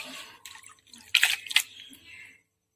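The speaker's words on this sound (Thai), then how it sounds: "แต่เราก็ทำการล้างน้ำเปล่าอีก รอบสองรอบ" Termite mushrooms are rinsed in plain water, giving soft splashing and dripping with a couple of brighter sloshes in the middle, close and fairly quiet before stopping.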